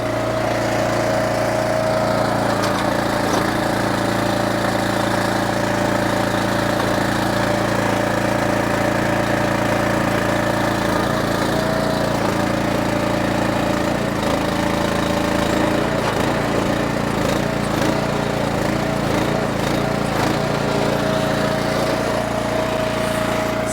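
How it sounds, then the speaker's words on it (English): A mini dumper's small engine runs steadily for the whole stretch, a constant buzzing drone like a lawnmower motor, close and fairly loud with no talking. "it does sound just like a lawnmower, because it is kind of like a lawnmower"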